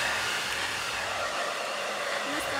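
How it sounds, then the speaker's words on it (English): A T3 Micro hair dryer blows with a steady, loud whoosh that stays constant from start to finish, close up, with no talking. "I'm going to use the hair dryer to blow dry as I do so."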